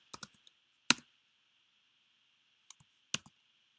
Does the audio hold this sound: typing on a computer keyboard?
yes